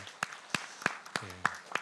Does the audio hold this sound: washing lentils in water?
no